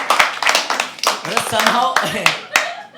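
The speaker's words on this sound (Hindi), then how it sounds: "एक बार जोरदार तालियां भाई" A small audience at a live poetry open mic claps in scattered, uneven bursts of sharp hand slaps, close and moderately loud, while people talk over the applause.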